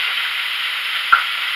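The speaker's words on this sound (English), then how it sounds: "And we're gonna drop, and you see that sizzle" Rolls drop into a fryer of hot oil with a soft thud, followed by a steady, even sizzle of frying that stays close and constant.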